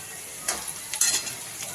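Green chillies sizzle on low heat in a pan of onions, a soft steady hiss broken by a few scraping stirs and light utensil clinks.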